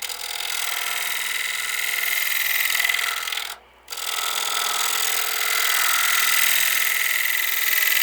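A negative rake scraper cuts wood on a spinning lathe, giving a steady, close, bright hiss and rasp that breaks off for a moment near the middle and then resumes evenly.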